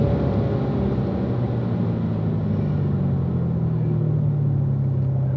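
A race car accelerating to full throttle out of a corner at Spring Mountain, engine droning loud and steady with a rising, continuous rumble from the cabin.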